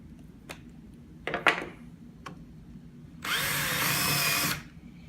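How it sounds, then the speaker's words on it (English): A few sharp clicks and knocks, then a power drill whirs loudly and steadily for just over a second before cutting off, drilling the head off a rivet on a foam system control box. "Just center up on top of the rivet and just drill the head off."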